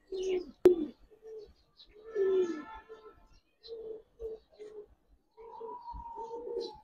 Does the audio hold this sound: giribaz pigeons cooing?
yes